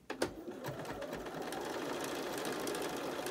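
Sewing machine stitching down the folded edge of a fabric face mask, a steady close whirring run that builds after a few quick starting clicks and holds even to the end.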